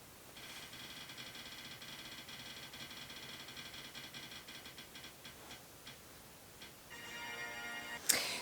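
A prize wheel spins with a fast, even run of ticks that slows and thins into separate clicks, then starts up again briefly near the end.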